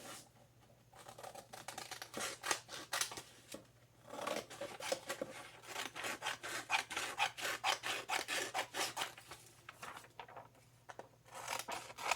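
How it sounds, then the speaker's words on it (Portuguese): Scissors snip through T-shirt sleeve fabric in quick, close repeated cuts, a crisp rhythmic shearing with short pauses between strokes and no talking. "a manga, que eu vou cortar 2 vezes, uma manga no lado direito, uma manga no lado esquerdo"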